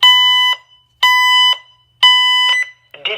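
A Honeywell L5100 security panel sounds its carbon monoxide alarm: loud, piercing electronic beeps in a steady pattern of three half-second bursts about a second apart, followed by a brief panel tone at the end.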